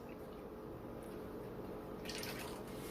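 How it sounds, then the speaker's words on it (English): Milk poured into sausage gravy in a pan, a soft continuous liquid trickle that grows slightly fuller near the end, close but quiet, with no talking. "let's add the last cup of milk"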